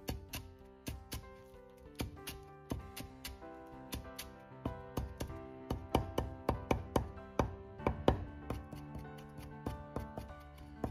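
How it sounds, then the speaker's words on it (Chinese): A kitchen knife chopping washed cilantro on a cutting board, a brisk run of sharp, close taps in uneven bursts and steadier stretches, quiet and without talking. "香菜两颗清洗干净，也是改刀切碎"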